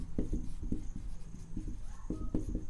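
Pen or chalk strokes scratch across a board in short, rhythmic taps and scrapes, close and fairly quiet, as a class 10 real numbers maths proof is written out.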